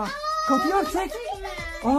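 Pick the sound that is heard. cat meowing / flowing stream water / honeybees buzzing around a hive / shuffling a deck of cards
cat meowing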